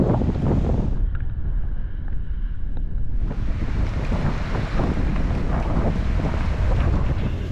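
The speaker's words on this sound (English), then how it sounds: "the wind is just starting to pick up now" Wind gusting hard across a sailboat at sea on the Indian Ocean, a loud steady roar and microphone buffeting with waves and hull noise beneath, no voices.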